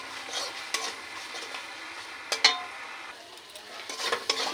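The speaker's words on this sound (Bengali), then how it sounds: "মটরশুঁটিটা দিয়ে একটু কষিয়ে নেব।" Green peas stir-fried in spiced oil, a faint sizzle beneath several clinks and scrapes of a utensil against the pan, with no voices.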